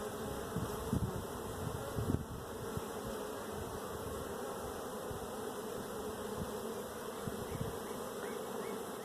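Honey bees hum in a continuous, dense buzz, close and steady throughout, as an open hive is inspected ahead of splitting.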